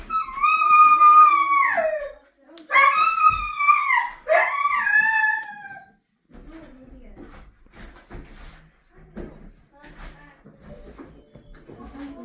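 A dog howls and whimpers in long, wavering cries over the first six seconds, wanting to go outside while another dog is let out; afterwards quieter household clatter and faint noises follow.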